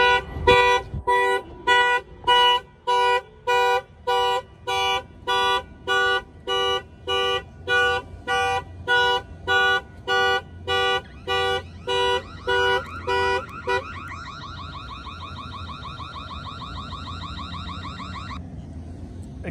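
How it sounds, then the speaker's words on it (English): A Mercedes-Benz C300's upgraded factory alarm blares in loud, evenly spaced pulsing honks for about fourteen seconds, then shifts to a steadier electronic warble that fades out, close by and with no talking. "I'm gonna go ahead and trip the alarm and let it ring for like 14 seconds"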